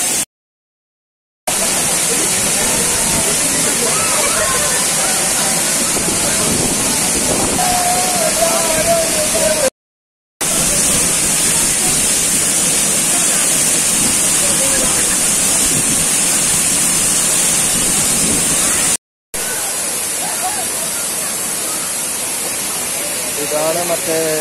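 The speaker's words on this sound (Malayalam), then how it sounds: "എറണാകുളം ജില്ലയിലെ അപൂർവങ്ങളിൽ അപൂർവമായ ഒരു വെള്ളച്ചാട്ടമാണ് ഇത്" Aanachaadi waterfall in Ernakulam, Kerala, falling over a steep rock face with a loud, steady, close roar of rushing water that is cut off by a few brief gaps.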